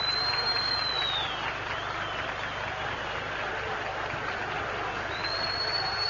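A football stadium crowd at a Giresunspor versus İnegölspor match applauds a substituted player leaving the pitch, a steady, distant wash of clapping and crowd noise.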